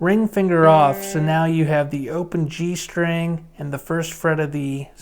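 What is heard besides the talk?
No everyday noises stand out.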